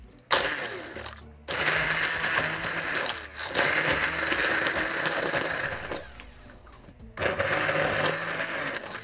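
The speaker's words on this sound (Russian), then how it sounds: "берем погружной блендер и все измельчаем до однородной массы" An immersion blender whirs loudly in several long bursts with brief pauses between, its motor grinding steadily through thick shrimp sauce close by.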